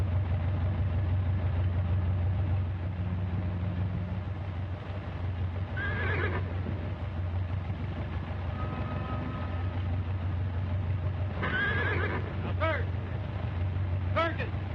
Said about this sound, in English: Watch the horse.